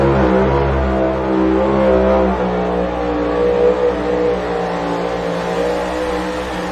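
A pulling truck's big engine with long funny-car-style headers revs hard and steadily at a truck and tractor pull, a loud throaty roar with a rumbling low end that holds at high revs without letting up.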